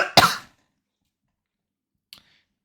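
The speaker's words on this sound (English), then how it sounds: "if I have any sudden cuts, it's because I'm having a coughing fit" A single harsh cough bursts out close and loud, followed by silence and then a faint second cough about two seconds later.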